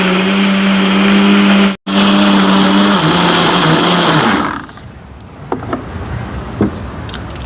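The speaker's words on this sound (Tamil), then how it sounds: "இதே மாதிரி மிச்சம் இருக்கிற வாழைப்பழத்தையும் வெட்டி அரைச்செடுப்போம்" Blender grinding bananas for Jaffna banana halwa, a loud high whining motor that dips briefly, runs on, then stops abruptly, followed by faint clatters.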